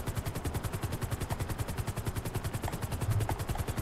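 A helicopter in the video game GTA thumps with a rapid, even rotor chop, steady and close throughout with a slight swell near the end.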